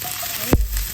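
Dry mustard leaves (gundruk) and dried fish frying in a pan for pickle, a steady close sizzle broken by a sharp clatter of stirring midway and again at the end.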